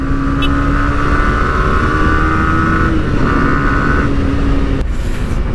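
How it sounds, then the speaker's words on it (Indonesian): Yamaha YZF-R15 V3 sport motorcycle riding fast on an Indonesian road, a steady loud engine drone with a sustained tonal whine and constant wind rush, the pitch holding then dipping briefly near the end. "Asik banget nih motor buat kenceng speeding gini, gila."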